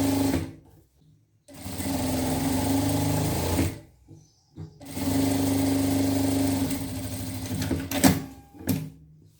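A sewing machine stitches the side seams and lining of a trapeze dress, running in loud, close whirring bursts: a brief start, a long run, a pause, then another long run with short final spurts.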